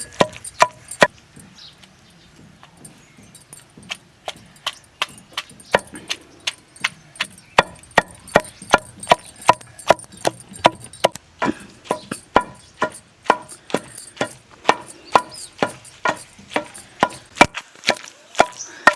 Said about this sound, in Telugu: ఇట్లా ఆ మాంసమును ఉల్లిగడ్డలు మంచి కలిసిపోయేటట్టు దంచుకోవాలి